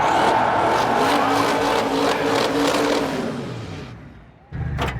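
A car does a tire burnout at a drag racing event, the New England 900. A loud, sustained engine roar holds steady, fades toward the end, and then a fresh burst of noise cuts back in.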